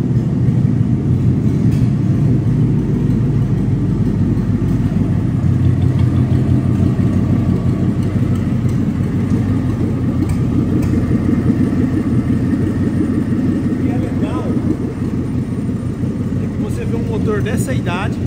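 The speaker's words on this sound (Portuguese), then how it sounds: "Pelo barulho do motor, apesar de estar sem o escape" A loud, raw-sounding Ford V8 engine in a Ford Maverick idles steadily and close by without an exhaust fitted, a deep rumbling drone with no muffler softening it.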